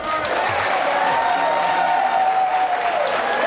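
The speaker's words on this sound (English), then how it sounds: "If you can hold your applause, please." Audience applause at a Democratic primary gubernatorial debate, a steady crowd clapping with some cheering in a hall, and a voice talking over it.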